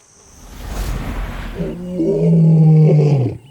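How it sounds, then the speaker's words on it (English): An adult lion gives a single deep, powerful roar, starting with a breathy rumble and swelling into a loud, resonant bellow before cutting off. "Along with tigers, lions are the only big cats that roar."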